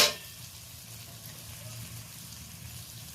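Mustard oil poured into a hot pan for a cauliflower and potato curry sets off a soft, steady hiss, beginning with a brief sharp burst and then settling into a low, even sizzle.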